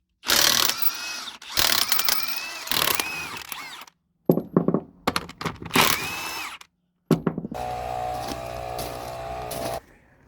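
Tools swapping tires on a vehicle at a swap meet, heard as several loud bursts of close mechanical whirring and ratcheting separated by short pauses, then a steadier machine hum at the end, with no talking.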